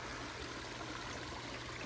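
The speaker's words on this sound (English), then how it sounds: "Right next to our stream and waterfall into the pond" Garden stream and waterfall flowing into a pond, a faint, steady broadband rush of running water with no other sounds.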